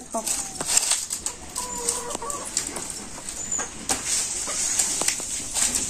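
Village chickens clucking nearby, a scatter of short clucks and calls over rustling and background noise, with a voice talking intermittently.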